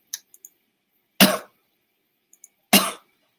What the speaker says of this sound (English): I've been having a cough from bronchitis